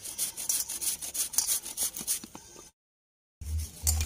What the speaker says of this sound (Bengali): টাইট টাইট করে মাখতে হবে।